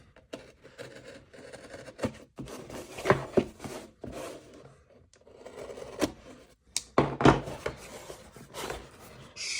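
A Cybertrix knife blade slicing and rasping through duct tape on a small USPS flat-rate cardboard box, with scratchy tearing strokes in irregular bursts close by and brief pauses between cuts.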